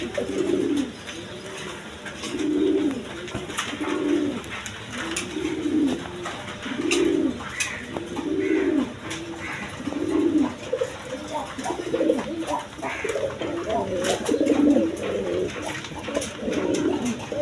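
Pigeons, including Rajgolla and other breeds, coo at a wholesale pigeon market in a regular run of low rounded coos repeating about every second, with faint chirps and background noise.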